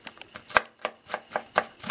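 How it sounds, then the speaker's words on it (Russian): A knife chops garlic cloves on a cutting board in about eight sharp, evenly spaced taps, close and distinct. "Просто на дольки немножко измельчить его."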